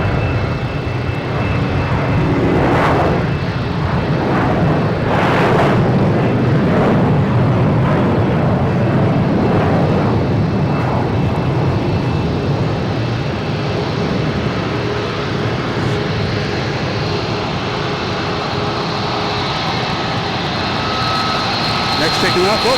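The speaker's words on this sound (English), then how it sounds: "we have this Alaskan Airlines in the alley here, making the racket" An Alaska Airlines jet at Boston Logan International Airport, its engines producing a loud, continuous roar with a whining tone held steadily throughout, with people talking over it.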